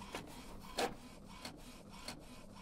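An Epson Expression Home XP-4205 inkjet printer aligns its print head with a series of rhythmic carriage passes, several soft whooshing sweeps and one sharper clack, heard up close and quiet with no talking.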